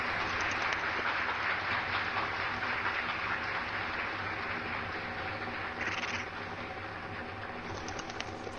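Continuous applause-like clapping from a Flash video game, filling the clip at a steady, moderate level, with a brief brighter flourish partway through.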